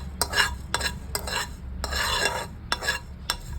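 Cumin and fennel seeds dry-roasting in a pan, bursts of scraping and rattling as a spatula stirs them, about six separate strokes with quieter gaps between, close by and without speech.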